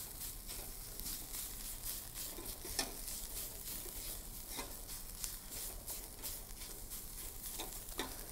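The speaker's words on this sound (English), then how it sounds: "we're going to saute those ingredients until they become very, very aromatic" Aromatic ingredients for beef satay sautéing in a pan, a steady close sizzle and crackle with occasional sharp pops and faint stirring, no voices.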